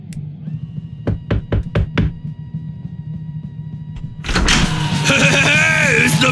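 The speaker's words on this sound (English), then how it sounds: "We cut to the shot of them outside Satan's apartment knocking on the door." Five sharp knocks rap in quick succession on an apartment door in an animated episode, heard clearly against a low hum, followed by a burst of excited voices and talk.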